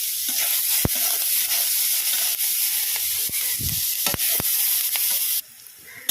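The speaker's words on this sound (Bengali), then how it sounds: "লাল লাল করে পেঁয়াজ ভাজা হয়ে গেছে।" Onions with green chillies and salt sizzle steadily in a hot pan for a fish kalia, a constant close frying hiss broken by sharp clicks and scrapes of stirring, the sizzle dropping quieter near the end.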